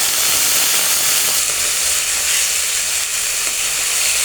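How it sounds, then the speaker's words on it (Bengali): Honey-sweetened water poured into a hot pan for a pointed gourd (potol) dish, giving a loud, steady, close sizzle and hiss that fills the whole moment without any voices. "এবার সেই জলটা আমি এর মধ্যে ঢেলে দিচ্ছি"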